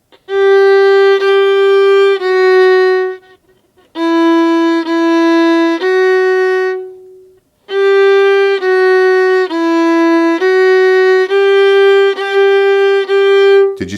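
Violin playing the Hopscotch exercise, number 17 from Essential Elements for Strings, as clear bowed notes in short phrases with brief pauses, loud and close, no voices.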